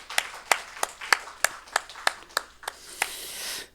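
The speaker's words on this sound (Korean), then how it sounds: "우리 박수로 한번 축복합시다." Clapping from a church congregation during a Sunday morning intergenerational worship service with children, a dozen slow, distinct rhythmic claps, close and fairly loud, ending in a short scattered burst.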